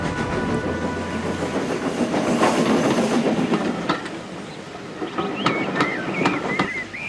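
Edward the engine runs along the railway track in a steady rhythmic clickety-clack of wheels over rail joints, with a low rumble and squealing metallic screeches toward the end.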